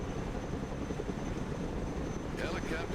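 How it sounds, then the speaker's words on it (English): A Chinook helicopter in the Broken Arrow war game gives a loud, steady rotor and engine roar that fills the whole clip, with faint chirps near the end. "Helicopters are impressive machines. Boy, are they noisy."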